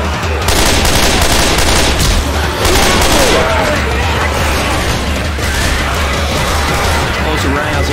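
Rapid bursts of shotgun fire in the zombie shooter Left 4 Dead 2, loud overlapping blasts in a dense, chaotic stream lasting several seconds, with crashing game noise behind.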